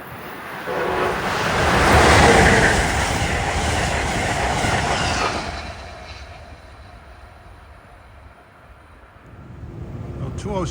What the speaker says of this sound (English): Here comes the Omen, train 666, Harrisburg to New York.